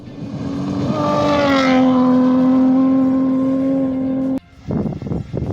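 A classic rally car, such as a Ford Escort, on the East Africa Classic Safari Rally roars past close by with a loud revving engine whose pitch drops as it passes, then cuts off into rougher, quieter engine noise.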